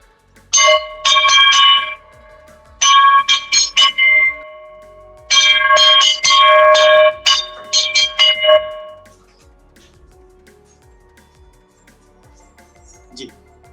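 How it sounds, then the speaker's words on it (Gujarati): A jhalar, the temple gong rung during aarti, from a family workshop in Anjar, Kutch, that makes manjira; it gives three loud, close bursts of rapid bright metallic strikes with ringing overtones, then fades to quiet. "આ ઝાલર છે. હા, આજે મંદિરમાં 2 ટાઈમ જે આરતી થતી હોય"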